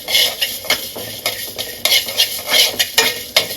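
Cumin, mustard and fenugreek seeds dry-roasting in a pan for Nellore fish curry, with a spoon scraping and stirring in repeated close, crisp strokes over a faint sizzle.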